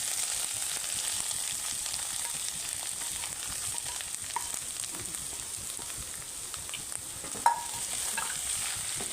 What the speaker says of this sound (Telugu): ఇందులో మనం అయితే పనస పొట్టు వేసేసుకుంటున్నామండి.